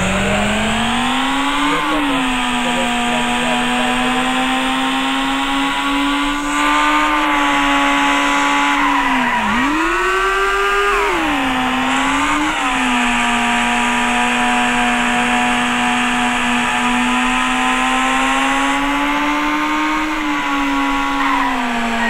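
Motorcycle engine in the video game Indian Theft Auto, revving steadily with a strong harmonic drone, dipping and surging twice as the throttle drops and climbs again, loud and close with no talk.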